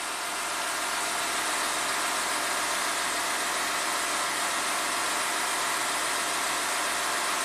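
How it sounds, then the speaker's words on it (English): Air suspension compressor pump on a 2014 Audi Q7 TDI running with a dense, constant mechanical whir and hum, loud and close, holding steady throughout with no talk. "Pump just kicked on."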